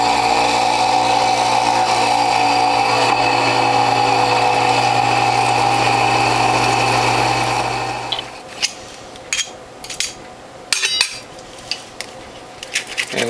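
A Whole Health Foundation juicer with a front-loading feed tube runs with a loud, steady motor whine while processing produce for about eight seconds, then stops, followed by scattered clatters and knocks of parts being handled.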